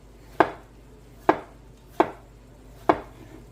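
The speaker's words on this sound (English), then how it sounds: "Potato being sliced." A knife slices through a potato onto a cutting board in four evenly spaced, crisp chops, close and distinct against a quiet background, with no one speaking.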